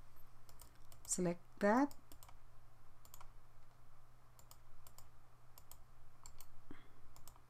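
Scattered clicks and key taps on a computer keyboard and mouse while drafting in AutoCAD, light and irregular, with a brief spoken phrase early on.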